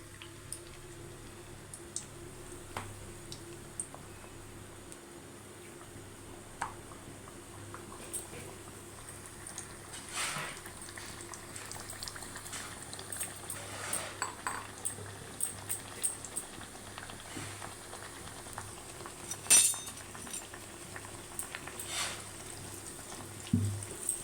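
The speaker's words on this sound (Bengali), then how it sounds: "দেখো কত সুন্দর পুরো ফুচকার মতো ফুলে গেছে এইভাবে আমি সবগুলো ভেজে নেব" Puffed semolina and milk powder snacks with a little sugar frying in oil, a soft continuous bubbling sizzle with small pops and crackles that grow busier toward the end, quiet and close.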